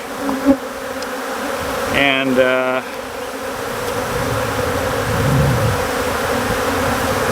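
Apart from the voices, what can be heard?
Africanized honey bees buzzing at hive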